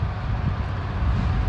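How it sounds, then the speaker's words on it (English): Strong wind outdoors on a cold rainy day near a railroad, a loud steady rumbling buffet against the microphone with no break. "Ooh, is it windy."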